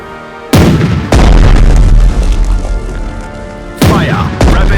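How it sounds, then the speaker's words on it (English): Naval artillery barrage in the video game Strategic Mind: heavy booming gun blasts, four loud close shots at irregular intervals, each followed by a long rumbling roar and lingering reverberation. "Commence the barrage."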